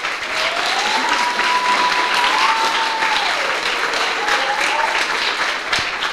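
Loud, steady applause from the crowd at a Cub Scout Blue and Gold ceremony, sustained evenly throughout, with a faint whistle or cheer gliding over the clapping.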